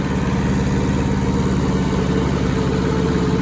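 An old, rusty Hinomoto tractor engine runs steadily while mowing, a loud, close, even mechanical drone with a throbbing low rumble.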